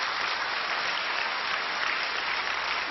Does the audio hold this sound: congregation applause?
yes